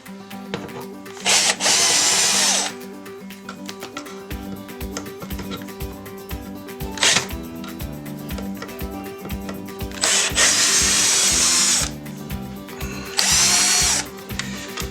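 Power drill backing screws out of a basement entry wall during demolition, loud whining bursts of driving broken by ratcheting clicks and handling noise between runs.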